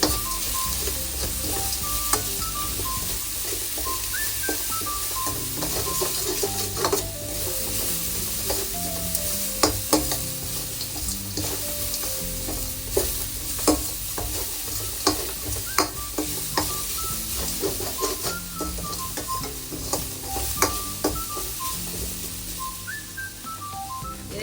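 Lemon rice seasoning fries and sizzles in oil in a pan, a continuous crackling hiss broken by repeated spatula clicks and scrapes from stirring, close up and with no talking.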